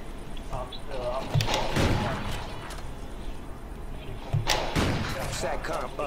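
Sniper rifle shots in a multiplayer shooter video game: a few sharp, loud cracks spaced seconds apart over steady background game noise, with faint talk underneath.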